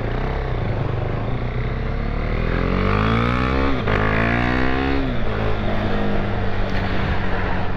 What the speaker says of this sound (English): bike sounds good